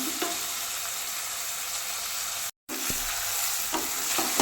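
Onions sautéing in a hot pan for a mushroom biryani, a steady close sizzle with occasional stirring scrapes, broken by a brief silent gap, no talking.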